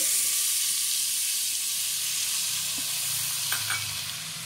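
Tomatoes go into a pan of sizzling Punjabi desi-style chicken curry, giving a steady, close frying hiss with a few soft stirring knocks near the end.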